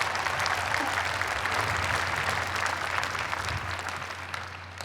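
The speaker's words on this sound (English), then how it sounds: "you can hand clap yourselves." Graduates clapping at a Boston University commencement, a dense, continuous wash of applause from a large crowd that stays steady and eases slightly toward the end, with a low hum beneath.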